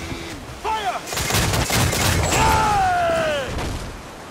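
Ship cannons firing in the Assassin's Creed IV naval battle game, loud booming blasts and rumbling under shouting voices and whistling tones.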